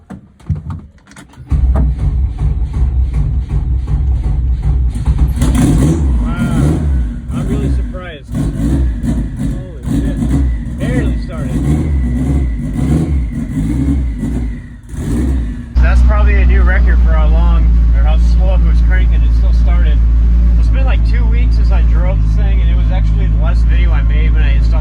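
A Honda Civic that has sat unused for a couple of weeks cranks briefly, then catches and roars into a loud, close idle with repeated revs, staying rough and steady after it settles.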